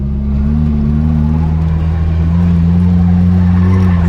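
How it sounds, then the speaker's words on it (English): A car engine holds a steady, loud drone in first gear while drifting in slow circles, with rising throttle pushes keeping the slide going close by. "And when it kicks out like that, give it a little bit more throttle to try to keep it drifting."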